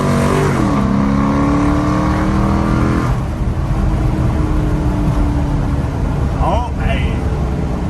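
A straight-piped 2006 Dodge Charger R/T rumbles while driving, a loud deep exhaust drone that climbs in pitch as it accelerates, then settles into a steady roar, with voices talking over it.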